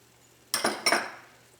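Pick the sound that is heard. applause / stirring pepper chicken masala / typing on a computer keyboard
stirring pepper chicken masala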